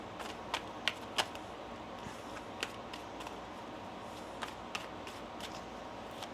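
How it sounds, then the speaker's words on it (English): Tarot cards are shuffled in a quiet room, giving a soft run of riffling and several sharp snapping clicks scattered through a few seconds, heard up close and alone. "One more shuffle."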